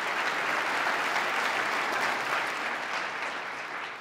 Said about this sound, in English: Let's give her a round of applause for the great job she's done